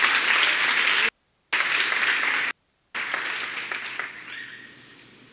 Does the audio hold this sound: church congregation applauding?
yes